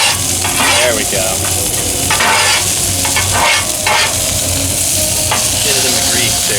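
Steak, potatoes and broccolini fry in grease in a pan in a moving RV, with a loud steady sizzle throughout and occasional scraping and stirring clicks.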